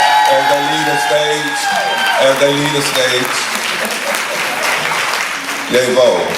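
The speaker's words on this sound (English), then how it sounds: "Y'all clap it up one more time as they leave the stage," Kwanzaa event crowd keeps clapping as child performers walk off the stage, steady applause with scattered cheers, with a host talking loudly over it at the start and end.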